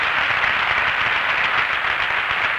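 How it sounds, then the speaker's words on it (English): A tent-meeting church congregation claps and applauds, giving a big hand. The dense, even applause stays loud and steady throughout, with no voices on top. "Let's give God a big hand clap for that"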